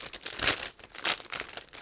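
A plastic bag holding the tracks of an ICM 1/35 scale Bergepanther model kit crinkles as it is opened, with two sharp rustling bursts and softer crackles between them, close and moderately loud.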